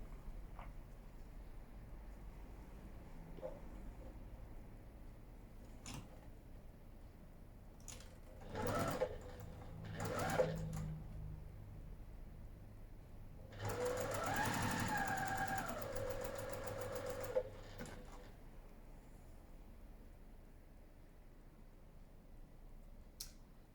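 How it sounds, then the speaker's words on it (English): A sewing machine stitching quilt pieces and triangles together for a mystery quilt, faint handling sounds, then a short whirring burst and a longer steady run of stitching, close and quiet with no voice. "Now I'm going to sew that together while you all watch on"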